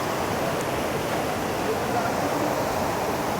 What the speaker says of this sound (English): Kuru waterfalls deep in the Abadayas in Nyeri County.